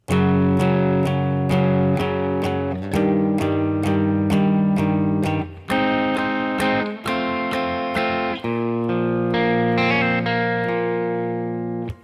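An electric guitar picks the second line of a song, a steady run of clear single notes and ringing chord tones with slight distortion and reverb, played alone.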